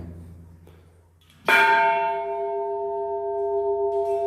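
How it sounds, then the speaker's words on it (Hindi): An old, heavy five-metal temple bell at a Narmada pilgrimage temple is struck once, giving a loud bright clang that rings on with a sustained humming tone. "ये जो है यहाँ पर एक घंटा लगा हुआ है, पंचधातु का है, जिसका वजन 16 मन है।"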